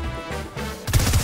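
Gunfire striking a brick wall in Fortnite: after a tonal stretch of game music, a fast burst of close, punchy shots erupts in the final half second, loud and rhythmic.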